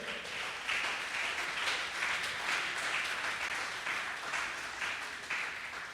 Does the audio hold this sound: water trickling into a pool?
no